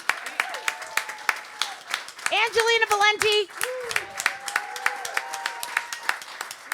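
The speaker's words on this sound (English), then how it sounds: "another big round of applause for Pete Pashoukos, everybody" Scattered applause from an audience for a performer at a live show, with individual claps spread throughout while someone speaks over them into a microphone.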